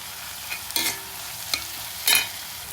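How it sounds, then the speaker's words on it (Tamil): Masala being sautéed in a pan with a steady low sizzle, broken by three sharp scraping stirs of a spoon against the metal. "இப்போது இன்னும் கொஞ்சம் வதக்குறோம்."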